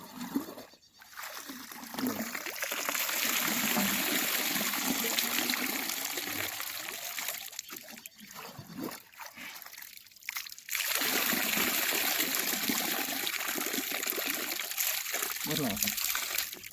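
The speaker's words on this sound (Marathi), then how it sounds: "याला या पद्धतीला सायफन पद्धत असं म्हणतात या पद्धतीने पाणी बाहेर काढणे" A steady rush of water draining from a farm field through a siphon pipe, with gurgling breaks where the flow briefly stops, then resumes strongly.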